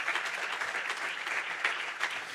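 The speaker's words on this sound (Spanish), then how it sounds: "Dale un aplauso si lo tienes claro" A congregation in an evangelical church service claps steadily, a continuous, moderately loud applause with no speech over it.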